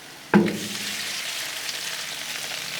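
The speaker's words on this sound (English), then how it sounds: "Grab your shrimp and throw them on here." Extra large, headed, deveined, thawed shrimp land in hot oil on a Blackstone griddle with a sudden sharp hiss, which settles into a steady close sizzle and crackle, with no voices.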